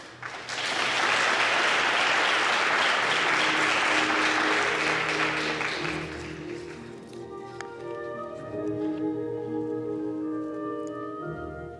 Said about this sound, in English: let's give another round of applause as our SGA officers enter into this space